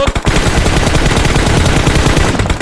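Rapid automatic gunfire from PUBG Mobile during a competitive league match: loud, dense bursts of shots rattling almost nonstop for nearly three seconds with no talking.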